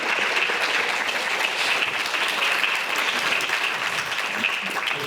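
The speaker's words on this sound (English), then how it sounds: "Let's give a round of applause to Mark and Christina." An audience claps steadily and loudly for several seconds at a mental health event, a dense, even wash of many hands with no pause.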